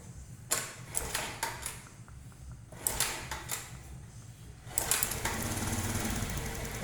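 A Honda Beat ESP scooter is kick-started repeatedly, each kick giving a sharp mechanical clack and a brief churn. The bursts come in uneven groups, with quieter gaps between them and no talking.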